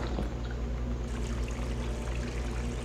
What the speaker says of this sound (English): I'm wasting water. Turn it off!